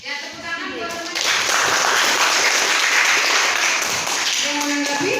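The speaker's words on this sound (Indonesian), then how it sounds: "tepuk tangan buat teman" Classmates applaud a fellow student in a classroom after a group presentation, a dense burst of clapping that swells after the first second and holds steady to the end, with faint voices mixed in at the start and close.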